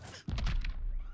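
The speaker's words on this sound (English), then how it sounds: "Did I just hear an explosion?" An explosion in a battle-ready school video game bursts in with a sudden low thump, then rolls on as a dense rumbling blast with crackling upper debris, fading slowly over about a second.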